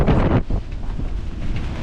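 Strong wind of 30 to 35 knots on a sailboat near the Hyères islands batters the microphone in loud, roaring gusts, a heavy buffeting rush that swells and dips without pause.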